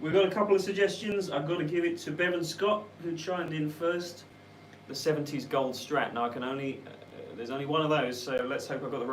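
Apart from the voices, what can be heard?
No everyday noises stand out.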